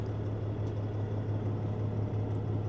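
A Peterbilt 379 truck engine idles roughly with a steady low drone and a strong hum, heard close and continuous with no talking.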